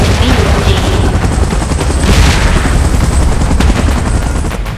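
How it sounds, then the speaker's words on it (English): Helicopter in the mobile game PUBG Mobile during a Godzilla and Kong event: a loud, steady rotor roar that fills the whole stretch, with booms and bursts of gunfire layered over it. "Chopper in position."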